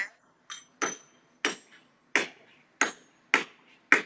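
Colored glass for a lamp being struck with a hammer, seven sharp, bright taps spaced about half a second apart, each with a short glassy ring, heard close and alone.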